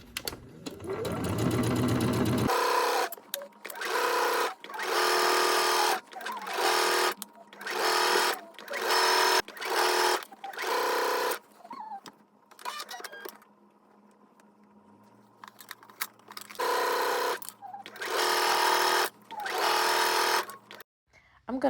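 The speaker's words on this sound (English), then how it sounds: "when you're understitching, you're basically bringing the seam allowance to the facing and stitching on top" A sewing machine understitching the facing of a dress, running in repeated short bursts of fast stitching separated by pauses, fairly loud and close, with a few quieter handling noises between runs.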